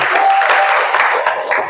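A crowd bursts into steady, dense applause, many hands clapping together at close range without pause.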